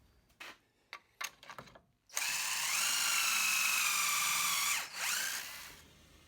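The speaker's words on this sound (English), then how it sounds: "So now I'm going to use my little individual Kreg jig and drill a couple of holes to attach that top." Power drill boring pocket holes through a Kreg jig into wood for a kids' step stool, a sustained high whine lasting about four seconds with a brief dip near the end, preceded by a few short clicks and bumps.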